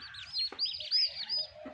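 Newly hatched turkey chicks give rapid high peeps in short bursts, several overlapping calls close by over a quiet background.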